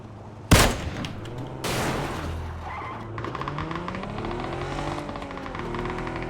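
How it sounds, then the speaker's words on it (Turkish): A burst of loud gunfire in PUBG, a sharp blast then another crackling volley from an M249 machine gun, followed by a sustained engine-like whine and steady mechanical noise. "O adam M249'a tarıyor lan"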